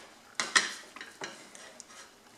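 A spoon scraping and knocking against a pot while thick fura dough is stirred, a few sharp close clinks followed by softer scrapes, with no voices.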